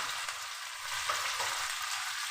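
Chopped onion, green chillies, garlic and ginger frying in a pan, a loud steady close sizzle that keeps up evenly throughout.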